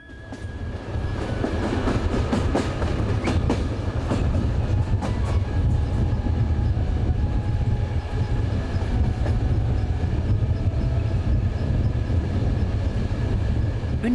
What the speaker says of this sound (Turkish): Sirkeci Garı'na bir tren geldi.